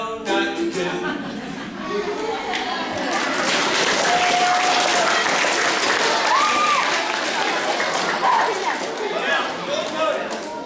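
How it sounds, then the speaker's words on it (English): Audience applause for a children's ukulele presentation, a sustained dense patter of many hands filling the room for several seconds, with laughter and voices chattering through it. "while you were clapping your hands for me"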